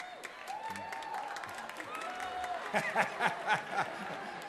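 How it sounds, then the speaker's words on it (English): Parents in the audience at a Jack and Jill DC 25th anniversary event give faint, scattered applause with a few sharper claps near the end, under murmuring voices and light chuckling. "bet that was the parents who were applauding"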